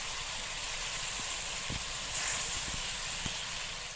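Paneer pieces simmer in a papaya gravy, giving off a steady, soft hiss and sizzle that stays even throughout, with no voices.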